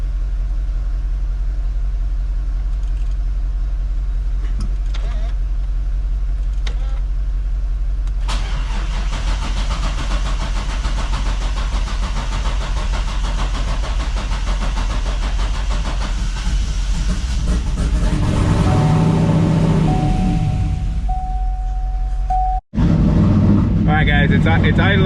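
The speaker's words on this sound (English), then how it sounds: "it's idling now" A supercharged C6 Corvette with a return-style fuel system and a new 2.5-bar MAP sensor cranks, catches and settles into a loud, steady idle close by. A person talks over parts of the engine noise.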